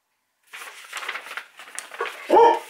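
Dogs whimper and yip in short bursts, closing with a louder, sharper bark nearby.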